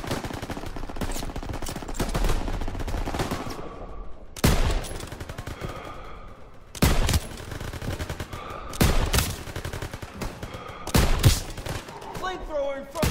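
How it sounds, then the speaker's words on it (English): Machine gun fire in a Call of Duty WWII battle to hold a bridge: several loud, close bursts of rapid automatic shots break through a steady rumble of combat, with sharp cracks standing out near the end. "MGs, open fire!"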